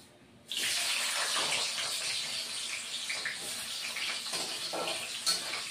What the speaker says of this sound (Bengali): তা আলুগুলি আমি আগে ভেজে নিচ্ছি।